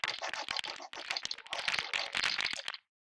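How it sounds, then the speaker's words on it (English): Christmas decorations knocking and rattling against each other, used as a dice-rattle sound, form a busy run of close, crisp clicks and clatters in quick bursts with a short pause partway through, then stop abruptly. "I recorded some Christmas decorations knocking into each other"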